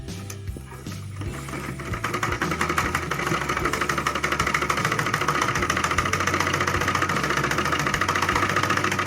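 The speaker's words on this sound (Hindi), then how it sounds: "इसकी डबल सिलाई करनी है हमें।" A sewing machine stitches a double seam on a high neck blouse, starting with a brief softer stretch and then running steadily with a fast, even mechanical chatter and hum, close and continuous with no voices.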